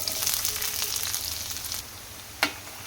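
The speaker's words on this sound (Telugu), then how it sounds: "ఆయిల్ హీట్ అయిన తర్వాత ఉల్లిపాయ ముక్కల్ని వేసేసుకోవాలి" Chopped onion pieces hit hot oil in a pan and sizzle with a steady hiss that eases partway through, followed by one sharp clack of a utensil near the end.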